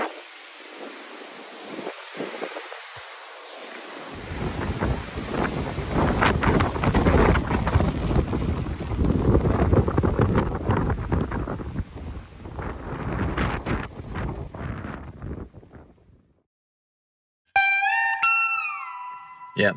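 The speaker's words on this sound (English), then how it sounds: "my property is not really sheltered for the easterly winds" A strong easterly gale buffets an unsheltered property, rising from gusty rumble into a sustained, heavy roar and then dying away abruptly, loud and close with wind hitting the microphone, followed by brief unrelated tones.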